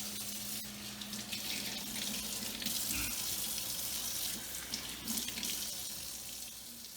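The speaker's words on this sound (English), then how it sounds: "Just rinse these quickly, get the seeds out of them." Running tap water splashes steadily into a sink as vegetables for a Greek salad are rinsed and seeded, a continuous close hiss with small shifts in flow and no talking.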